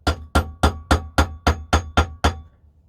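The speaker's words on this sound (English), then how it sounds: "trapped it in the vise, and I just hit the head a couple of times." A hammer striking the head of an airsoft hammer part clamped in a vise: nine sharp metallic blows in a quick, steady rhythm, close and loud, then quiet.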